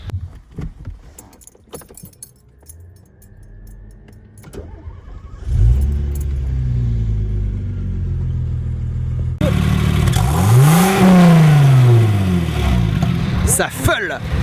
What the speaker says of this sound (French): C'est une belle sonorité pour un moteur turbo quand même.